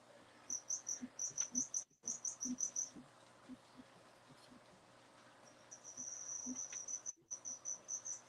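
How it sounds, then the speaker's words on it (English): Crickets chirp in rapid, high trills that come in bursts. A quiet pause falls midway before a denser stretch of chirping, with soft low knocks in the background and no talking. "I didn't notice the crickets till Blackie came in"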